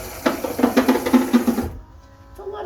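The power window of a 1966 Ford Thunderbird rolls with a crinkly, rattling mechanical chatter in quick repeated ticks for under two seconds, then stops abruptly into near silence.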